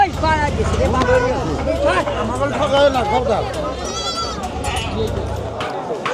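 Goats bleat repeatedly amid the busy chatter of a weekly village cattle and goat market at Dohar Joypara in Bangladesh, with wavering cries rising over constant crowd babble and people talking nearby.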